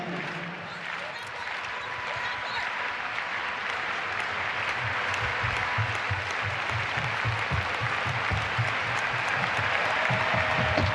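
An arena crowd at Belgrade's Štark Arena clapping during the women's long jump final, steady rhythmic applause building slightly over about ten seconds, with a voice talking over it.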